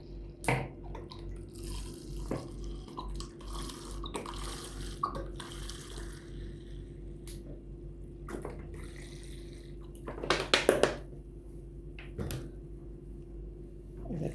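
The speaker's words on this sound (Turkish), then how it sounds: "Bakın şu şekilde sirkesini dökelim. Üzüm sirkesi bu." Grape vinegar poured from a bottle into a jar of peppers for pickling, a faint trickling and gurgling of liquid over a low background hum, with a few knocks and clinks and a brief louder splash near the end.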